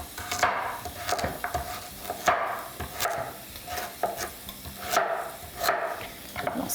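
A kitchen knife slices carrots on a wooden cutting board in sharp, evenly spaced chops, about eight distinct strikes, close and clear with no talking.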